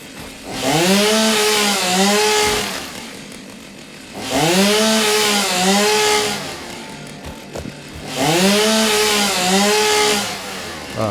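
Biofuel-powered chainsaw in the video game Satisfactory, heard as three loud, close revving bursts of about two seconds each, the engine pitch rising and dipping as it cuts, with quieter idling between.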